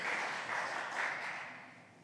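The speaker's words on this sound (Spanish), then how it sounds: "démosles un aplauso, hermano, porque son padres" A church congregation breaking into applause, a dense wash of many hands clapping at moderate distance that gradually fades over a couple of seconds.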